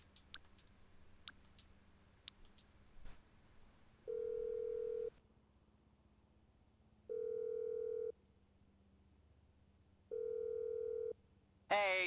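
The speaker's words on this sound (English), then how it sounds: "have each character call all the characters on their phone." An outgoing phone call in GTA V: a few soft clicks, then three evenly spaced ringback tones about a second long each, separated by quiet gaps, ending in a brief burst as the line connects.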